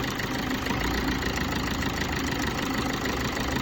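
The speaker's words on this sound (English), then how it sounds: "You can observe I changed, the engine sound just changed." A Vitara Brezza car engine idles steadily up close, its low rumble shifting slightly in tone partway through as an aftermarket Dieseltronic tuning mode is switched.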